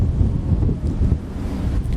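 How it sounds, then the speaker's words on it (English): Strong wind buffets the microphone on a walk near Dieppe, a loud continuous low roar and rumble that fills everything and drowns out any other sound. "It's too windy to hear."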